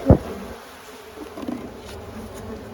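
Honeybees at an opened hive give a low, faint buzz, with one sharp close thump at the start and a soft hum afterward.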